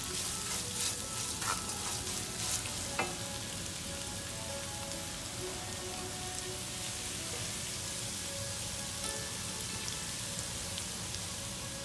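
Fresh coconut frying in a pan for lemon rice, a steady rain-like sizzle with occasional stirring clinks early on, close and even throughout.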